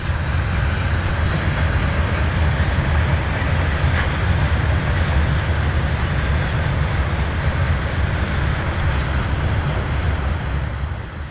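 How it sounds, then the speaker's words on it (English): A passing train rumbles loudly and steadily, a continuous heavy roar with faint clatter throughout, close by and holding at a constant level before easing slightly at the end. "Hey Dave, I've got my own train video of my very own now"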